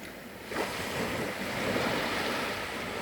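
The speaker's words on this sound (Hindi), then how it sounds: "किस प्रकार से उफनता हुआ सागर आ रहा है," Ocean surf rolling in and crashing on a beach in Fiji, a steady broadband wash that swells loudly after a brief quieter start, with some wind noise over the microphone.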